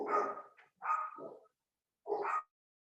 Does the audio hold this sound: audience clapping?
no